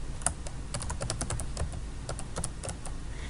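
Rapid, crisp keystrokes on a computer keyboard tap out a short site name in Google Sites, a close, steady flurry of clicks with no talking.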